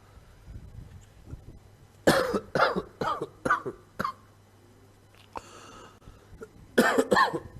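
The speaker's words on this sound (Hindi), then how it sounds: "ज्यादा जोर से खांस रहा हूं तो फिर चक्कर भी आ जाते हैं।" A man coughs hard in several harsh, close bursts: a tight cluster of four or five, then a pause, another single cough, and a final rapid flurry, with a low steady hum underneath.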